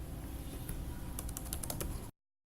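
Code being typed on a computer keyboard over steady room hum, a quick run of soft, crisp keystrokes in the latter half before the sound cuts off.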